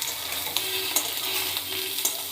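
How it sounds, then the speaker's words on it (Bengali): Vegetables with green chillies sizzle in a pan as they are stirred, with a constant frying hiss broken by a few sharp utensil scrapes and taps at irregular intervals, with no voices. "ভালো করে নেড়ে নেব।"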